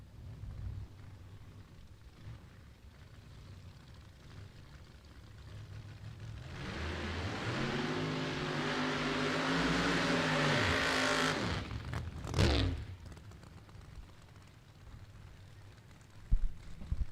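Chevrolet drag race car roaring at a drag strip during elimination racing, rising from a distant rumble to a loud, screaming run with climbing engine harmonics, then cutting off abruptly and fading.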